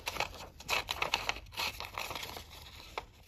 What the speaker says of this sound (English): And then I'm gonna cut it out.